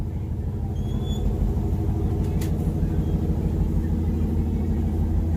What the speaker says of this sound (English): That's not the bike running, that's the truck.